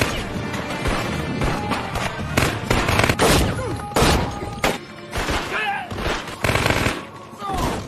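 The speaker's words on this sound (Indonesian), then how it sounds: "muncullah tim bantuan yang langsung menghujani Carp dengan peluru panas" Machine gun fire in an action film scene, a backup team spraying bullets at a man, with loud repeated bursts and sharp shots over dense effects and music, with some shattering impacts mixed in.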